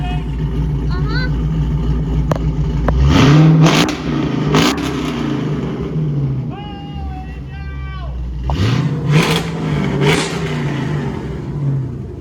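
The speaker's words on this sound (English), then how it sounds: "Can I rev it one more time?" A 5.3-liter V8 swapped into a Prius revs twice with its exhaust cutouts open, each blip roaring loud and deep before settling back to a rumbling idle, with people talking and exclaiming nearby.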